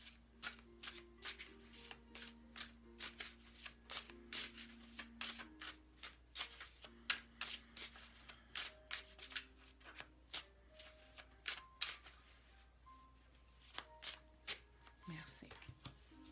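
A deck of guidance cards is shuffled repeatedly in a group card reading, with crisp riffles and soft card slaps recurring every second or so, up close, over a low background hum and a faint tone.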